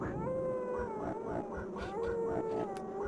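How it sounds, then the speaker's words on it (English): Looping synthesized wolf or dog howls from the Amiga game Sword of Sodan, several drawn-out wavering cries overlapping one another at steady loudness with no talking. "I think it has the same howling sound bites as Resident Evil."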